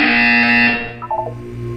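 A loud, harsh electronic buzzer from the Portal 2 video game sounds alone for under a second, then cuts off, leaving a faint tonal hum with a few brief electronic blips.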